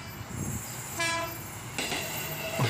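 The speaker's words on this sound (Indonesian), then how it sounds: "Oh, ada kereta." A train rumbles past at close range, with a short horn blast about a second in and heavier rail noise near the end; no voices.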